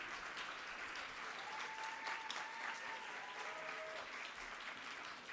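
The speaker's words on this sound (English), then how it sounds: "Please give them a round of applause." A graduation ceremony audience applauds staff and faculty, the dense clapping steady and fairly distant, with a few faint whistles rising above it.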